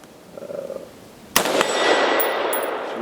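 A shotgun blast strikes a paint can at an outdoor range, a single sharp loud report with a metallic clang, followed by a sustained ringing wash and faint high pings.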